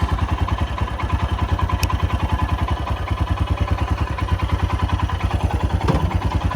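A Royal Enfield Himalayan motorcycle engine idles in neutral just after starting, a steady, close, even thumping beat that holds throughout.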